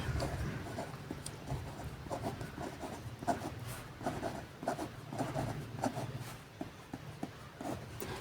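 A pen scratches steadily across paper during a maths lesson on real numbers, giving close, rhythmic strokes and taps at a fairly even pace with no talking.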